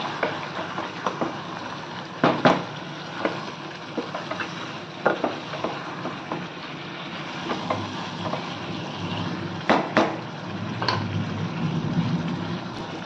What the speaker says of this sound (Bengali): আরও 4 মিনিট এটাকে কষাবো, হাই ফ্লেম কিন্তু।